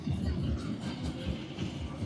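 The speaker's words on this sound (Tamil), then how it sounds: "ட்ரெயின்ல போறாங்க ட்ரெயின் ஓடிக்கொண்டிருக்காங்க" A carnival ride train runs at a fairground near Kallady bridge in Batticaloa, with a steady rumble and rhythmic rolling clatter under a background of crowd voices.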